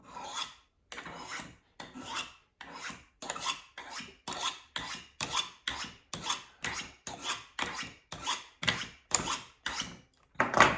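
A knife edge is drawn over a sharpening stone in steady, evenly spaced rasping strokes, about twenty close scrapes in a row, putting a micro bevel on the apex, with no talking.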